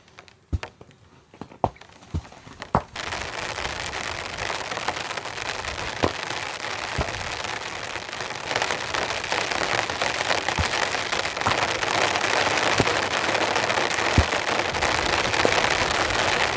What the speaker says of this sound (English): The rain's coming back.